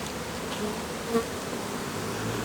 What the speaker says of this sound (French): Si ça se trouve, il y a certaines abeilles déjà qui sont déjà agressives parce qu'elles sont issues d'une autre souche.